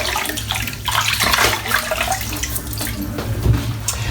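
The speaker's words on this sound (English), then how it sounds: "Just going to wet my face." Running tap water and splashing as a face is wetted at a sink before a wet shave, a steady close rush of water with irregular splashes and no talking.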